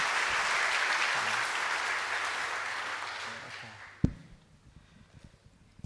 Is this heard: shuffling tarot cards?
no